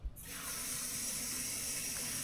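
Tap water pours steadily into a pot of peeled, diced potatoes. After a brief knock, a constant close hiss fills the clip with no talking.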